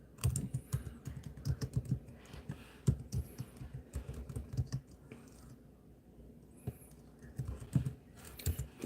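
Fingers typing on a computer keyboard, close and clear, with bursts of rapid key clicks broken by short pauses and no talk.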